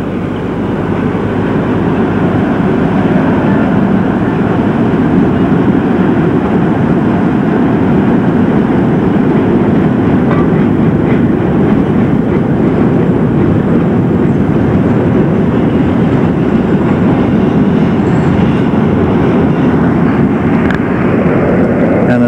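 A loud, steady rumble and roar of a Chicago elevated 'L' train running continuously, dense low-frequency noise with a rattling texture, close by and unbroken throughout.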